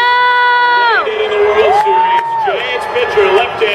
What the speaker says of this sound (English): this guy needs a big, big applause